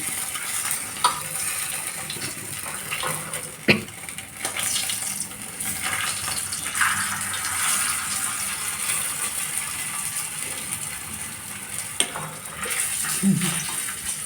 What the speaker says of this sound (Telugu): బోత్ సైడ్స్ ఉంది, 4 వైపులో కూడా బాగా ఫ్రై అయిపోయింది. ఎందుకంటే నూనె సలసలా మాగినది